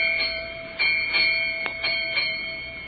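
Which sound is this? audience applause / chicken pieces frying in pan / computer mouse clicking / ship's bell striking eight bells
ship's bell striking eight bells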